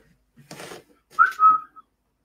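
A brief breathy sound, then a short whistled note sliding upward and held, close and fairly loud in an otherwise quiet room.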